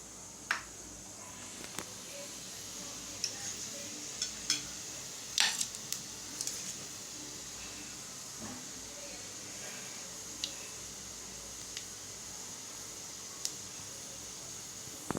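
Fennel seeds tossed into hot oil for a spicy Chettinad brinjal masala, giving faint, scattered crackles and pops over a quiet background hiss.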